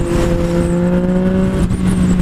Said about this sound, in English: God, I hope you guys enjoy this exhaust.